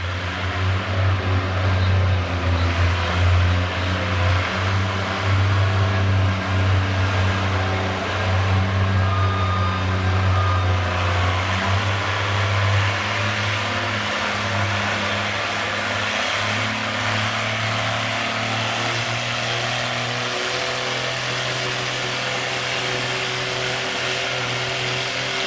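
A classic tractor roars at the tractor pull track. The engine holds a steady, loud, deep drone for the whole stretch, with a slight easing partway through and no voices heard over it.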